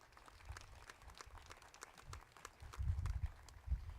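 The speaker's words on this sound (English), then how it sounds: "Do you mind to give them a round of applause?" Scattered applause at a college groundbreaking, faint at first, then swelling into a few brief, louder bursts of claps close by, with gaps of quieter ambience in between.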